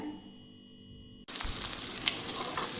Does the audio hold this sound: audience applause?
no